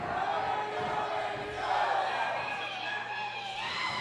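A wrestling crowd roars wildly at a live show, a dense, continuous wall of cheering and shouting that stays loud throughout.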